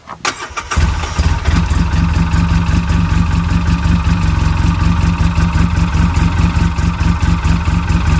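A 2011 Polaris RZR cranks for a moment, then its engine catches and settles into a steady, loud, close idle with a low throbbing rumble that holds for several seconds without talk.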